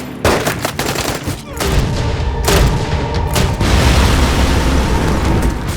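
Gunfire rings out in a sniper shooter film, loud sharp shots cracking at irregular intervals over a dense, roaring battle din that swells and holds to the end.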